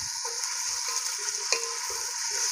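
Finely sliced onions fry toward golden brown in oil, with a steady hiss under a repeated stirring scrape and one sharp clink of a spoon, close and even throughout, with no one speaking.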